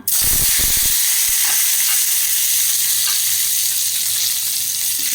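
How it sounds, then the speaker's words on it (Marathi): Mustard seeds and curry leaves sizzle loudly in hot oil, a burst of crackling spatter at the start settling into a steady, close frying hiss with no voices. "तेल तापलें सासाम करबेळ घातलें"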